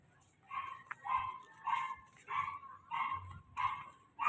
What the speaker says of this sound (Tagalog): Marami pong maliliit na aso rito